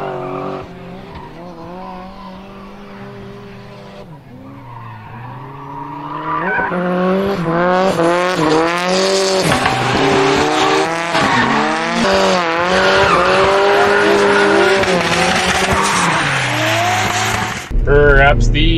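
A Porsche 944 drifting, its tires squealing and skidding in loud, sustained, wavering screeches that rise and fall continuously across the run, with the engine droning underneath.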